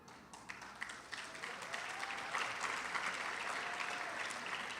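An audience at a talk on race and journalism breaks into applause that starts as scattered claps and swells into steady, dense clapping throughout, heard from within the room.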